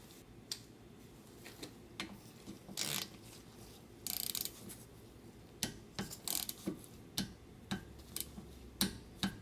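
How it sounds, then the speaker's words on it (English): Torque wrench on the caliper bracket bolts of a Subaru Forester's front brakes, giving a series of sharp mechanical clicks and ticks, spaced irregularly and growing more frequent toward the end, close by with no talking. "So now we're gonna torque these two caliper bracket bolts."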